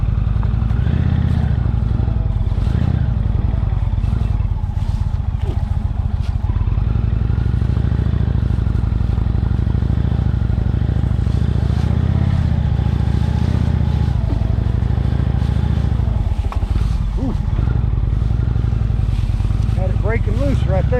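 A heavily loaded motorcycle rumbles loud and close as it climbs an off-road hill near a pond campground in the Appalachians, the engine droning steadily with bursts of revving, clatter and scraping.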